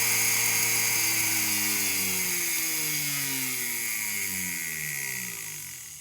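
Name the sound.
power carving tool motor running at full speed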